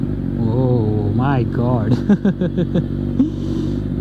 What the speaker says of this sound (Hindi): कावासाकी की Z900 और इसमें लगा हुआ है एक्रोपोविक का फुल सिस्टम एग्जॉस्ट